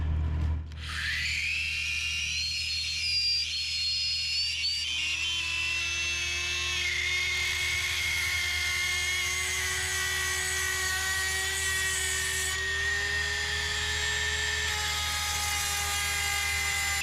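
A powered sharpener grinds a chainsaw chain tooth by tooth, a steady high whine with scraping grind that rises in pitch and holds, loud and close, with no talk.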